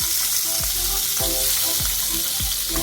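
Pointed gourd (potol) slices fry in hot oil in a pan for Bengali potol posto, giving a steady close sizzle broken by soft, rhythmic spatula knocks roughly every half second.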